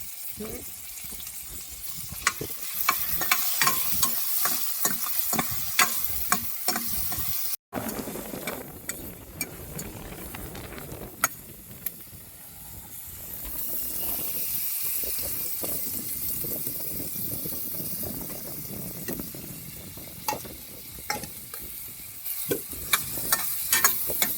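Chopped tomatoes fry and sizzle in a pan during riverside cooking beside a camper van, with a continuous hiss, occasional stirring clatter and sharp clicks, plus some background voices.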